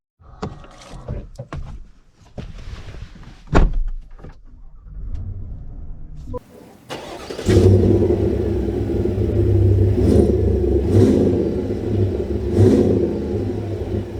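A 2023 Chevy Suburban High Country pulls away after a few quiet interior sounds, its engine settling into a steady low rumble and road hum that builds and holds, with a few brief whooshes over it.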